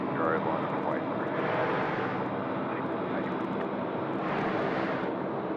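A Qantas Airbus A330-200 arriving from Auckland lands on runway 34 right at Sydney Airport, its engines a steady distant roar that swells twice, with wind noise and voices faintly underneath.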